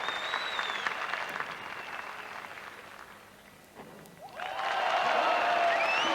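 A crowd at a 1988 European freestyle skateboarding event applauds a handstand trick, a steady wash of distant clapping that dips briefly before swelling louder and fuller toward the end.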